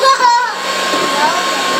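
An electric mixer whirs at close range with a steady high buzz, briefly wavering at the start.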